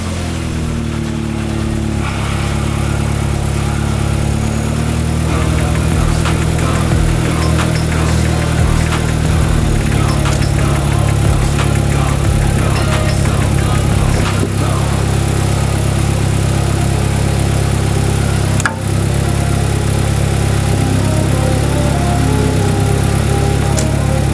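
A Vauxhall Astra VXR engine runs steadily and loudly close by throughout, with a continuous rumbling drone and mild shifts in revs.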